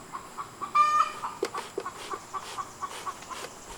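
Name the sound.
hen clucking after laying an egg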